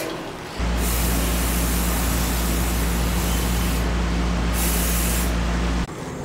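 Spray paint hisses from a can in one long, steady, loud burst, starting and stopping abruptly, close to the listener.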